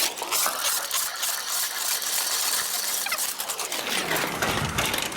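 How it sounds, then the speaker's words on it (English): Drain cleaning machine cable being pulled back out of a main sewer line, a steady loud mechanical rattling and whirring with ratchety clicks running throughout. "We'll pull her out and see what we got."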